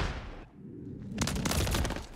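Rapid automatic gunfire in the video game Modern Warfare 3 breaks out after a brief lull, a dense, loud sustained burst of shots.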